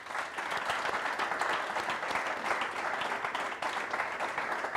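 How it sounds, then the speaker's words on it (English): Conference audience at a Startup Grind event in Barcelona applauding a speaker, a dense, steady wash of many hands clapping together, sustained and even throughout. "So please, big applause for Toby."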